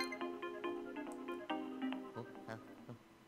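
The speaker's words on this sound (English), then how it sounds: "Wait, what's going on? I guess I got a phone call." A phone rings in the video game Luigi's Mansion 3, a bright electronic ringtone of quick repeated chiming notes, clear and steady with no talk over it.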